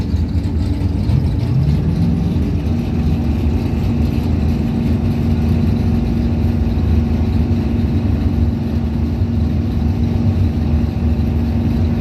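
An engine drones steadily under a high continuous hum at a drag strip, as a 1986 Jeep Comanche and a 2006 Cadillac CTS launch, with no clear separate bursts of revving.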